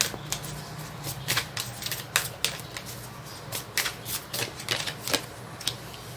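Tarot cards are shuffled and drawn by hand, giving a run of crisp, close papery flicks and slaps in uneven bursts over a low steady hum, with no talk.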